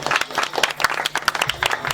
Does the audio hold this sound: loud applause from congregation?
yes